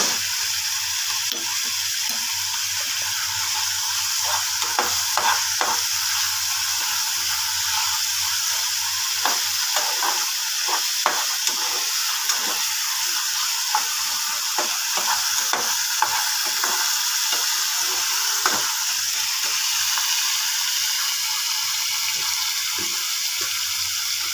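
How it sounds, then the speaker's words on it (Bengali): A spice paste for prawns sizzles and crackles in hot oil, a steady hiss broken by repeated spatula scrapes and stirring, close by throughout. "ভাজা ভাজা হয়ে এসছে, মশলাটা তেল বেরিয়ে গেছে, ভাজা ভাজা হয়ে গেছে।"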